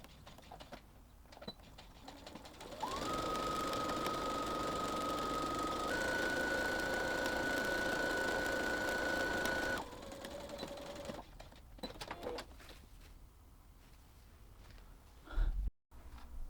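A sewing machine runs steadily while stitching the sides of a tote bag lining, a close continuous motor whir with a high whine that shifts pitch midway, then stops into scattered handling clicks and rustles.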